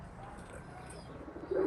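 A pigeon coos softly nearby against a low background hum, with a slightly louder sound at the very end.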